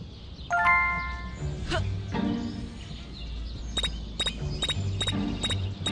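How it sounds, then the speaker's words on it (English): Repeated bell ringing in the video game Scary Teacher 3D, a run of bright ding-dong chimes in the second half, clear over game background sounds, with a short musical tone and brief voice earlier. "There goes that stupid bell again."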